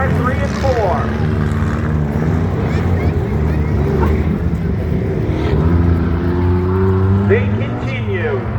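Trucks rumble and rev through a Halloween pumpkin smash demolition derby, engine drone rising and falling in loud overlapping whines close by, while a commentator talks over the racket.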